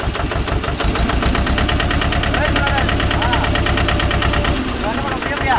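A Mahindra 265 DI tractor fitted with a rotavator runs loud and near, its diesel engine rumbling with a steady knocking pulse that rises as it revs, while people talk over it.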